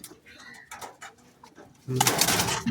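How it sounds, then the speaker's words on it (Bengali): Racing pigeons in a club loft give soft, faint coos at first, followed by a sudden louder burst of close cooing and fluttery noise, with people talking nearby. "ও আচ্ছা আপনাদের হচ্ছে ক্লাবের পায়রা"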